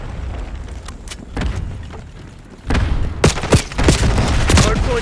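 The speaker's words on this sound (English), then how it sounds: "Fire an Archangel." Launcher fire and explosions in a Call of Duty video game, Archangel strikes, land as a dense barrage of booms and gunfire, growing louder and heavier in the second half.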